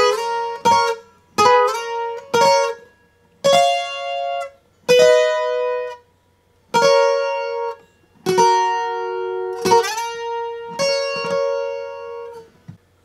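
A requinto guitar plays a riff at a quicker tempo, with bright plucked phrases broken into short bursts separated by brief pauses, alone and close.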